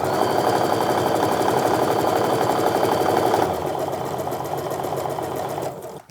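Sewing machine stitching through quilt fabric pieces for a Christmas quilt, a fast steady mechanical whir running loud and continuous, easing slightly partway through before stopping near the end.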